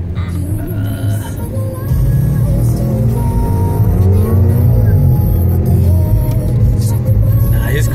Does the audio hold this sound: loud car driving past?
yes